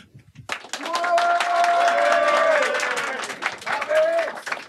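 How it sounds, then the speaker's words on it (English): A live audience at a FOSS Talk Live podcast recording breaks into applause after a brief pause, a full burst of clapping mixed with some drawn-out vocal whoops that swells, holds and then tapers off. "We don't cheer. Just applause."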